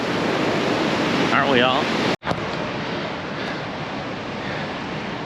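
Ocean surf at Panama City Beach on the Gulf of Mexico washes as a broad, constant hiss with wind buffeting the microphone. A brief spoken line cuts in early, then a short dropout, before the steady surf continues.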